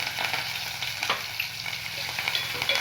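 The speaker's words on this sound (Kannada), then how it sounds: "ಫ್ರೈ ಮಾಡೋಕೆ ಹಾಕ್ಕೊಂಡಿದ್ದೀನಿ" Mustard seeds, cumin and onion fry in hot oil in a pan, giving a loud steady sizzle with crackles and a few stirring scrapes, with no talking over it.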